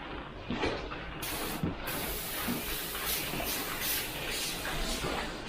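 A steady airbrush hiss sprays black ink straight from the bottle continuously at close range, with a faint shift in tone partway through and no voices.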